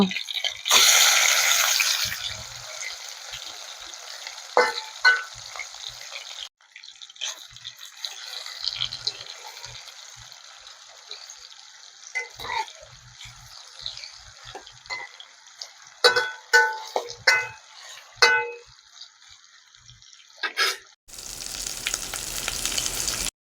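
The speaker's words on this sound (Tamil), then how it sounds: "மீன் நல்லா வெந்துருச்சு அப்படி திருப்பி போட்டுக்கலாமா" Fish sizzling as it fries in a pan, with a steady crackling hiss through most of the stretch, broken by sharper spits and pops and a few clinks of handling, close and fairly loud.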